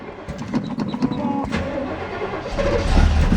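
1970 Oldsmobile Cutlass convertible, cold and not yet run that day, cranking over with a stuttering starter whir before the engine catches and settles into a low, throaty rumble, close by.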